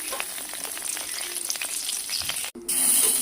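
Black pepper, sugar, garam masala and bay leaf fry in hot oil with a dense, continuous crackling sizzle. A brief cut is followed by a louder, steadier hiss.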